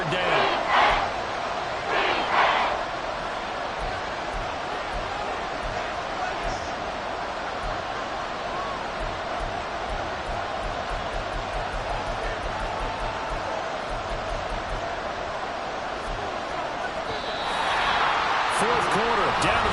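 A stadium crowd in a football video game, Dallas Cowboys vs Carolina Panthers, roars loudly and steadily before a big third down. Sharp bursts come near the start and the noise swells again at the end.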